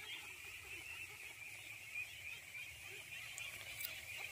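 Month-old domestic ducks in a rural flock during the rice-harvest season call steadily in a continuous, fairly faint chorus of quacking, with no talk.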